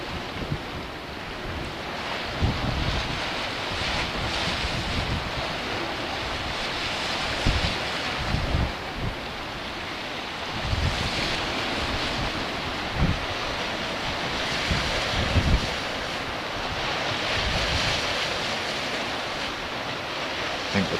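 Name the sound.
tide waves and wind at Solway shore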